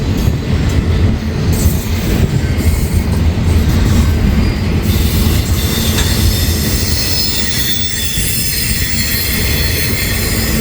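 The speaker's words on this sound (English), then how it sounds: "definitely a Z train." A freight Z train carrying many UPS trailers rolls past in Rochelle, a loud, steady rumble of rail cars with squealing wheels and rattling that lasts the whole stretch, close by and with no talk.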